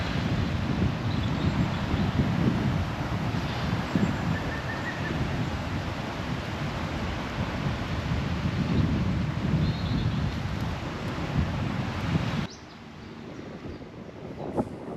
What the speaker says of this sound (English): It's quite windy in these woods today.